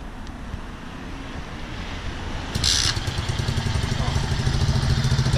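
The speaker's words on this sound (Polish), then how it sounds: "teraz jeszcze raz go sobie odpalimy, bez ssania" A new motorcycle's engine is restarted without the choke, settling into a steady, fairly loud idle with wind noise, then running rougher and louder after a sharp burst near the midpoint.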